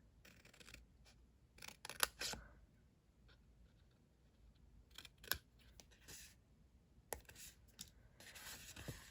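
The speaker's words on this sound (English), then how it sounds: "We're going to cut that off completely." Scissors cutting off a strip of cardstock from the Simply Citrus kit for a tiny paper box: a few quiet, crisp snips and slicing rasps spaced irregularly, with light paper rustling between them.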